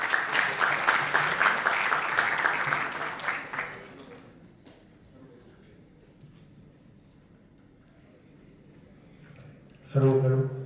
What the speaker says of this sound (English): Let's give a big round of applause for Mr. Kadam as he takes on the stage.